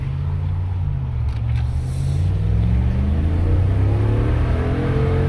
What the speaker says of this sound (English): A little bit of road noise with the windows down